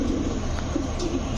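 Lahori pigeons coo softly at close range in a loft, a few low rounded coos over a steady background hum, with no talk.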